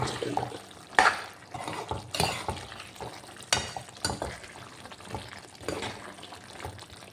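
Curry leaves fry in ghee for chana masala, a soft crackling sizzle under repeated scraping and clinking stirs of a spoon against the pan.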